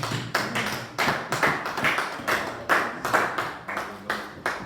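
A church congregation claps in steady, brisk rhythm during a French-language worship service, a dense run of sharp, close hand claps repeating evenly for several seconds.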